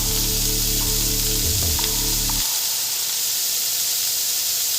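Cauliflower stalks fry loudly in hot oil with turmeric and salt, giving a dense, bright sizzle and hiss throughout, close up, while a low electric hum sounds for the first half and then drops away.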